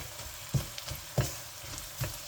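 Chilli powder, garam masala, meat masala and turmeric sauté in a pan for beef roast, a soft, quiet sizzle broken by three sharp stirring knocks of a spoon on the pan.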